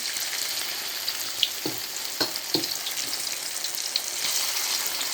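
Steady frying sizzle from a pan, a continuous bright hiss with a few soft pops and clicks scattered through it.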